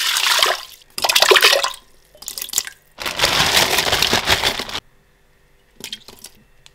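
Water poured in bursts into a Cookeo multicooker pot for one-pot pasta with tomato sauce, several loud splashing pours separated by pauses, then a couple of small knocks and fainter splashes.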